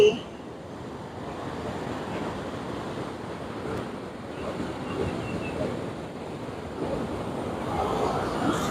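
Sea waves wash onto the rocky shore at Phuket in a continuous, broad surf roar with some wind buffeting, moderately loud and steady throughout.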